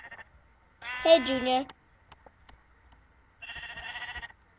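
Sheep in the Minecraft video game give two short synthetic bleats, one wavering and one flatter, separated by a quiet gap, with a brief spoken greeting between them.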